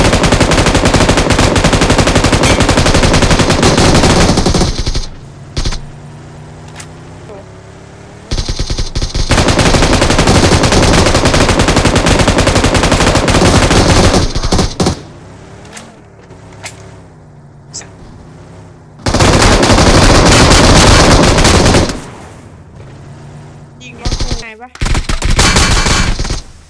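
An M249 machine gun fires in long, loud bursts during a video game, the bursts broken by quieter gaps. Other game sounds fill the gaps.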